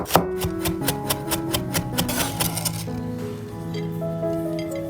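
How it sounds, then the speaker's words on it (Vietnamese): A knife minces a red shallot on a cutting board, giving a quick run of about a dozen sharp chops that then fade into quieter scraping over background music. "Một củ hành tím thì mình băm nhỏ ra."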